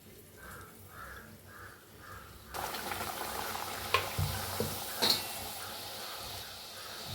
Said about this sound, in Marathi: पुरी तळून घेऊया आपण।